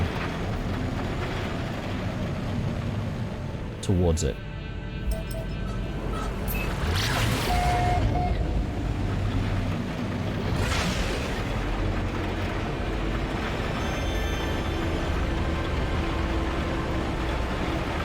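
Pulse engine flight in the No Man's Sky video game: a loud, sustained roaring rush with a surging whoosh midway and a brief mechanical clunk, steady and close, with a few faint spoken words.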